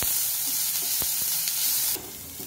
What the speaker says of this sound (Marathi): कांदा सोनेरी रंगावर येईपर्यंत परतून घ्यायचे आपल्याला